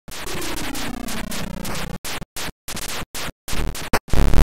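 Chiptune title-screen theme from the 1989 Atari 2600 basketball game Double Dunk, a short burst of bright, buzzy square-wave melody that breaks into choppy stuttering fragments separated by brief silences.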